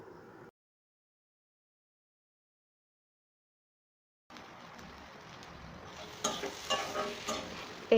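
Spices fry in a karahi for a vegetarian dish: after a short burst and a stretch of silence, a soft sizzle starts up and grows louder, with scraping stirring noises near the end.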